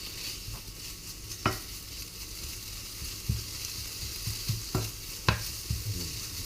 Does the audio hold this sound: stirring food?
yes